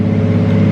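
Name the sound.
Nissan S15 Silvia engine revving on a dyno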